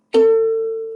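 A single ukulele string, shortened by a fingertip, is plucked and rings out with a bright attack, then a clear sustained tone that slowly fades, heard alone.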